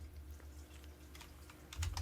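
Quiet typing on a computer keyboard while setting up a Zapier automation: scattered soft key clicks, faint and close, ending in a short louder burst.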